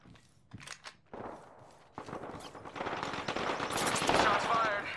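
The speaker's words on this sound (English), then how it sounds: "Shots fired. And they're hitting me." Rapid gunfire in the Apex Legends battle royale, with sporadic early shots building into dense, sustained automatic bursts that grow louder and closer toward the end.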